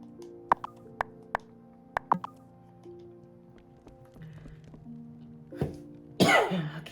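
Sharp coughs burst out in a quick irregular series from a person near the microphone, over faint video-game background music, followed by a louder rustle.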